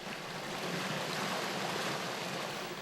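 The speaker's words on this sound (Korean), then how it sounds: "미로 같은 마을길로 들어서면 한 줄기의 시원한 물길을 만난다." Cool water running along a channel through a village of mud-brick houses, a steady, dense rushing wash that stays even and fairly close throughout, with no voices.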